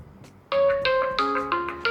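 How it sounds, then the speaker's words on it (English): An OPPO F15 phone plays its ringtone through the loudspeaker, a bright melodic sequence of clear synthesized chime notes that starts abruptly and rings out close and loud. "Let me show you one of its ringtones so that you can analyze."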